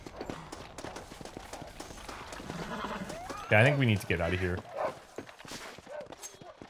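Horses in Red Dead Redemption give a loud, close whinny in the middle, with scattered hoof and movement noises before and after, while a voice talks over the game sounds.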